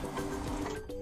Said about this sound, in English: Oh no, it's printing.